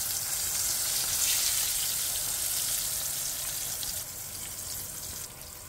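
Floured fish fries in a pan, a steady bright hiss of sizzling oil close by, slowly easing in level with no talk.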